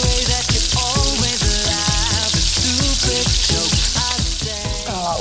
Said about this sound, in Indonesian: Sekarang langsung aja kita goreng dengan minyak yang panas.